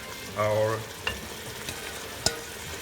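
Sautéed acorn squash is stirred into cooked tomatoes in a pot for a Mexican soup, a low sizzle with a brief tonal sound early and a couple of sharp spoon knocks against the pot.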